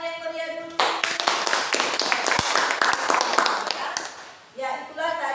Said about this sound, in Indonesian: Iya, tepuk tangan yang meriah dulu.